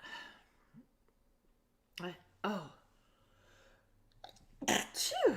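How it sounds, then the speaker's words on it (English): A single sharp sneeze bursts out near the end after a few quick breaths and small vocal sounds, close and fairly loud. "I'm going to sneeze"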